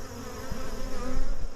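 Honey bees buzz loudly and continuously around an open hive during a mid-October frame inspection, with a close, droning hum of many wings.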